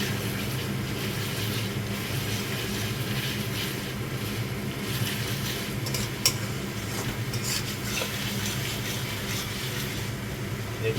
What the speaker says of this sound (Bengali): এইভাবে মশলাটাকে আমাদের কষে নিতে হবে